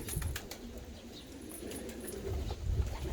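Pigeons cooing in low, soft murmurs, including a pair of male double white-tailed birds, with faint rustling and a brief flutter of movement nearby, no voices.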